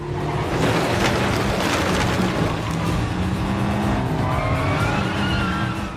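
A car chase in the video game 007 First Light, with a racing engine roaring continuously and loud tire squeals rising over the drone in the second half, dense and close.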